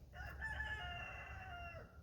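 A rooster crows once in a single long, sustained call at moderate distance, its harmonic tones holding steady before dropping off at the end, over a low rumbling background with no talking.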